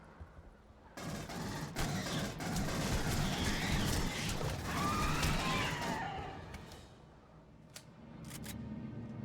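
Dense, sustained gunfire from the Aliens: Colonial Marines video game, a loud continuous barrage of rapid shots with clattering bursts that rises and falls for several seconds, then thins to scattered shots near the end.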